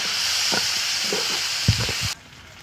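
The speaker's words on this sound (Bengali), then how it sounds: "টমেটো কুচি দিয়ে দিলাম আরও ভালো করে কষে নেব" Chopped tomato frying with spices in a pan for a fish curry, a steady bright sizzle with a few soft stirring knocks, cutting off abruptly near the end.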